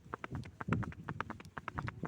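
Horse hooves on a cement road, a brisk, regular clip-clop of close, crisp strikes sounding alone as the horse moves along at a quick pace.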